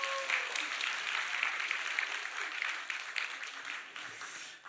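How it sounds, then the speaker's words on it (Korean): Church congregation at an all-generation worship service clapping for a young member and the youth group president, a soft, fairly distant patter of many hands that slowly thins out toward the end. "수고한 우리 유준이와 청년회장 박수 보내겠습니다"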